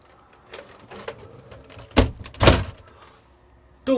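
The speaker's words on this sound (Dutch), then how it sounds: "doen we de douchecel dicht en zo blijft alles netjes droog aan de andere kant" Shower cubicle door in a rental camper being swung shut, a few light rattles building to two sharp thuds close by, then quiet, with no voices.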